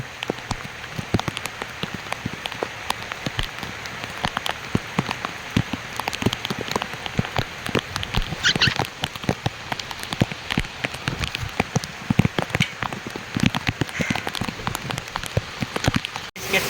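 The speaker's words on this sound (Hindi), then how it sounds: "केते वर्षा देखो" Heavy rain pours down on surfaces outdoors, a dense continuous patter of close, sharp drops with constant splashing that fills the whole stretch at a loud, steady level.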